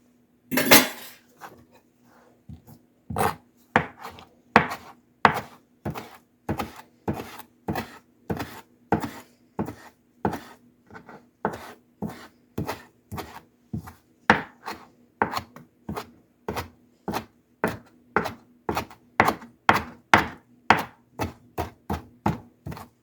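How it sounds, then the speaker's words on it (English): Close, crisp knife chops strike a cutting board in a long, fairly regular run of several dozen sharp thuds, starting sparse then settling into a steady rhythm with no talk. "I'm going to chop this"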